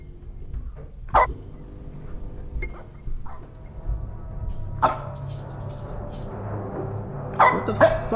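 A dog gives a few sharp barks and yips, spaced apart, against a quiet room with faint background noise.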